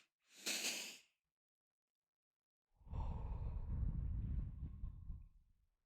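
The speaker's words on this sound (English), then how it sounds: "breathe in through our nose twice so that our lungs thoroughly expand" A breathing exercise of two inhales through the nose and one long exhale through the mouth: a brief sharp nasal sniff, a pause, then a drawn-out, breathy, low exhale lasting a few seconds, close and soft, with no talking.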